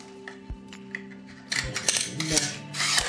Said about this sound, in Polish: Szywkę wrzucamy sobie tutaj od góry.